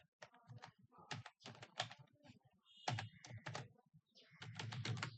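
Fingers tap out a run of keystrokes on a computer keyboard while entering a browser address, in uneven clustered bursts with short pauses, fairly close and clear.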